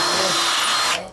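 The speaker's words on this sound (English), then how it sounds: "Then they drill pilot holes through the recently living antlers." Power drill boring pilot holes through antler, a loud, close, steady high-pitched whine that runs for about a second and then abruptly cuts off.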